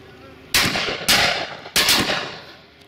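Three loud shotgun blasts fired at pheasant and partridge on a driven shoot, evenly spaced about half a second apart, each a sharp crack followed by a short rolling decay outdoors.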